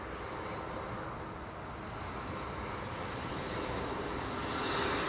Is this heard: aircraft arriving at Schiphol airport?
yes